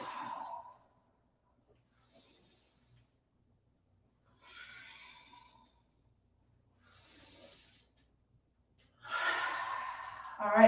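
Deep yoga breaths come as a slow series of five airy inhales and exhales, spaced a couple of seconds apart and separated by silence. They are soft to moderate, and the final breath is the fullest and loudest.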